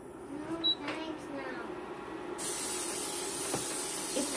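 A short burst of cooking oil spray hisses steadily for about two seconds after some clatter and brief talk, while cooking pancakes.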